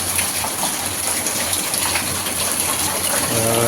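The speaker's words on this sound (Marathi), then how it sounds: "कोकणातील पाऊस पहिला पाऊस" Heavy rain pours down in a dense, steady hiss that stays constant throughout, with no voices; the season's first rain in the Konkan region.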